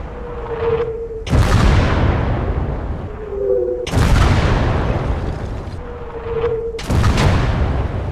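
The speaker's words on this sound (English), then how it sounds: "With enough shots, we knock out an enemy 88 cannon" Artillery in Gates of Hell Ostfront fires on an enemy 88 cannon: three heavy booms at steady intervals, each preceded by a short rising whistle and followed by a long rumbling decay, loud and close.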